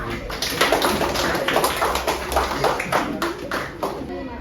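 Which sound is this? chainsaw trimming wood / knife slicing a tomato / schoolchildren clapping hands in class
schoolchildren clapping hands in class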